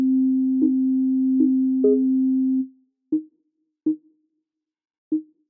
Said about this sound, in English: I've got this key sound, a stock Ableton preset.